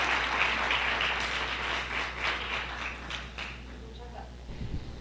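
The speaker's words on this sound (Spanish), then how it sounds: "Demos un fuerte aplauso para Ana Karina y a Tony da Silva." Audience applause for two invited professors at a university crisis-communication event, a broad steady wash of clapping that holds for several seconds and thins toward the end, over a constant low electrical hum.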